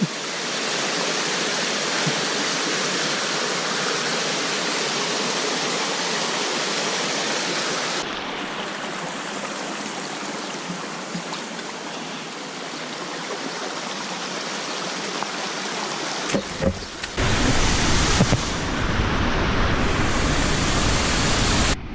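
Sayahan Falls in Ormoc roars steadily after an earthquake, a dense continuous rush of water heard up close, with brief handling bumps near the end.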